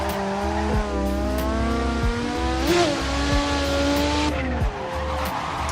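Video game car, a DeathWish garage pack build, revving hard with tires spinning and squealing, engine harmonics climbing and dropping through gear changes, loud and continuous with no talk.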